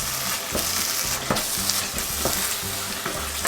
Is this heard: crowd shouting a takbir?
no